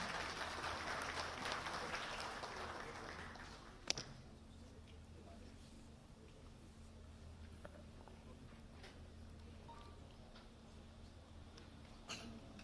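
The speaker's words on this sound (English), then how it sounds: "Please welcome him with a huge round of applause" An investors' summit audience in Delhi applauds the Chief Minister's arrival. The clapping is soft and distant for the first few seconds, then fades into a quiet hall hum with an occasional tick.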